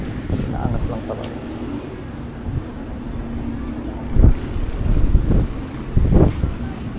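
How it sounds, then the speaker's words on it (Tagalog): Strong gusting wind buffets the microphone in a steady outdoor roar, swelling into louder bursts toward the end. "Ay, lakas ng hangin"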